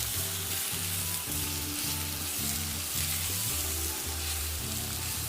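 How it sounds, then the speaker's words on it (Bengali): Chopped onion sizzling in hot mustard oil in a pan, a loud continuous frying hiss with faint rhythmic stirring underneath, close and without talk. "আবারও তেল গরম হয়ে এলে এখানে আমি অ্যাড করছি পেঁয়াজ কুচি।"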